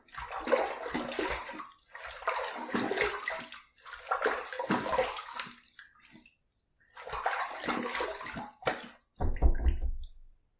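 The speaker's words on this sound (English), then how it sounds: "Let's rinse." After a razor shave, a face is rinsed under running water in four close bursts of splashing, separated by short pauses, ending in a couple of low knocks and splashes.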